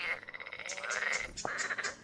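Minecraft frogs croak loudly in quick rhythmic pulses within the game's ambience, a dense chorus that runs throughout the short stretch with no talking.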